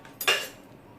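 A fork scrapes across fish skin to remove scales: one short, bright metallic scrape with a clink, quiet and close.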